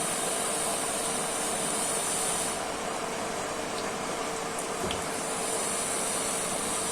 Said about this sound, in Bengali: তেলটা দিয়ে দিচ্ছি গরম হওয়ার জন্য।